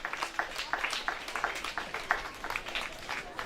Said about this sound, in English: Yes, a round of applause for him.